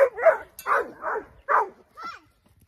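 A farm dog barks repeatedly near a chicken tractor on a homestead in a quick series of five or six sharp, close barks, ending with a softer yelp before falling quiet.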